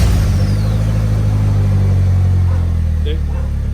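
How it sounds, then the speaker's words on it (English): 2019 Polaris Slingshot engine idling close by, a loud steady low rumble with a faint rev throughout, with a person talking over it. "and then the Slingshot will start."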